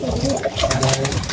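Pigeons coo softly and repeatedly while being fed, their low burbling calls running through the whole short stretch alongside a voice and background bustle.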